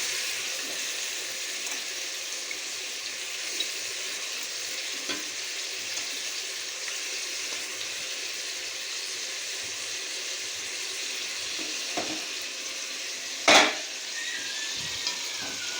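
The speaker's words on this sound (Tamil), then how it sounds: "வாழைப்பூ நல்லா பிரட்டி நல்லா வதக்கிக்கலாம்." Banana flower and tomato sizzle steadily while being sautéed in a pan, a constant close frying hiss with occasional faint clinks and one sharp scrape of stirring.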